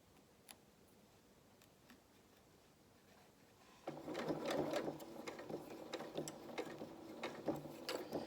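A sewing machine stitches a frill onto a strap, first a few quiet clicks and ticks, then a loud, rapid, steady mechanical whirr with rattling needle strokes for the last few seconds.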